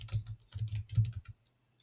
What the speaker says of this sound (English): Now we'll type in a general H1,